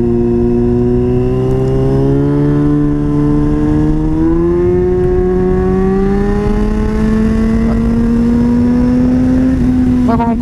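Yamaha FZ6 S2 four-cylinder 600 motorcycle fitted with a Leovince exhaust and Power Commander 5, riding with a loud, steady engine note that rises smoothly in pitch as it accelerates, close and continuous throughout.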